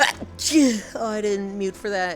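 A single sudden sneeze at the start of a gaming stream, close to the microphone, followed immediately by a person speaking.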